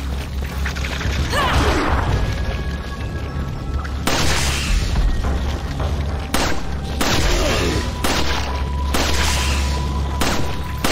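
Repeated gunfire bursts from Ada's weapon in Resident Evil 4: Separate Ways, loud and dense over a steady game soundscape, with shots cut into several clusters across the stretch.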